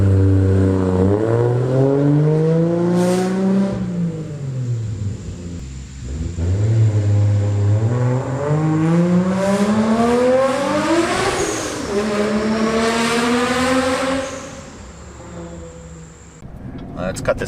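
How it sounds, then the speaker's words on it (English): A loud car engine revs repeatedly through its exhaust, rising and falling in pitch with aggressive roaring pulls, a voice faintly under it. "who doesn't want their car to be louder and more aggressive sounding?"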